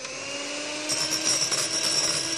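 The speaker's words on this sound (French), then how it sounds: "quand vous commencez à voir les petits filaments des blancs derrière les deux petits fouets, vous pouvez accélérer la vitesse de votre batteur" An electric hand mixer with two whisks beats egg whites for a meringue, a steady motor whine that grows louder and denser partway through as the speed is raised, with no voices.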